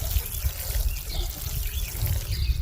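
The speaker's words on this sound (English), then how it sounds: "Last step, water it in." Water poured from above onto a freshly planted seedling in seed starting mix, a steady close trickle and splash with a low rumbling undertone, no voices.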